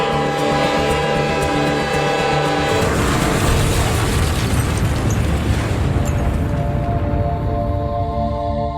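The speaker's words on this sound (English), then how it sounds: "there was a massive train explosion in northern North Korea" A loud, sustained explosive roar from a massive train explosion in northern North Korea rumbles and crackles with heavy low booming, following a tonal mechanical hum that cuts off abruptly.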